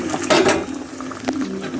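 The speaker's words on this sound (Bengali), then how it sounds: "আমি এখন দিয়ে দিচ্ছি এই মাছের মাথা।" Fish heads, already boiled, dropped into a pan of spice paste and starting to fry for a potato and fish-head dish, with a clatter of utensil on the pan and a soft steady sizzle, close and alone.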